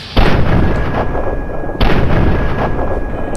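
Gunfire in the post-apocalyptic shooter Fallout 3: two loud, booming shots about 1.6 seconds apart, each with a long rumbling tail and a steady tone underneath.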